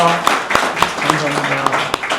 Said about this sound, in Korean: 다시 한번 힘찬 박수 부탁드립니다